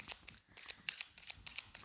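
Tarot cards being shuffled and drawn by hand, a run of quick crisp riffling flicks and soft slides in short bursts, close and quiet with no talk.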